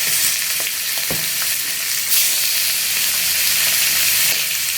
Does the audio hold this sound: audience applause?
no